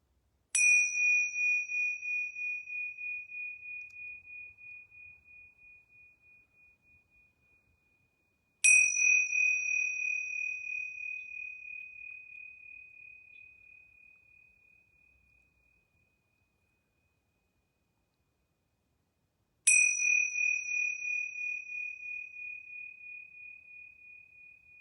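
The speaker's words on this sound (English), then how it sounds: "I'm going to ring these yoga bells 3 times." Yoga bells struck three times at a morning yoga session, each a clear bright ring that slowly fades into silence before the next strike, alone with no talk.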